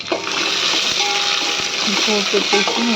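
Mint and curry leaves sizzle in hot oil as a tempering for biryani, a steady loud frying hiss with stirring clinks throughout and a voice speaking over it.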